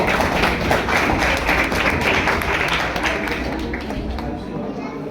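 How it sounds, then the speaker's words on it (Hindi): Audience clapping at a school painting prize event for World Environment Day, a dense, steady patter of many hands close by that slowly fades over several seconds. "तालियां बजाइए।"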